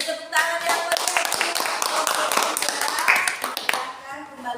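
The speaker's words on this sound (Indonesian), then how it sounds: "Beri tepuk tangan yang meriah." Lively audience applause after group presentations in a classroom session, bright, busy clapping from many hands sustained for several seconds at close range.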